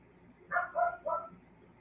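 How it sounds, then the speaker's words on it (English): A dog gives three quick, muffled barks in a row, somewhat distant, against a quiet background. "that's why my dog is barking"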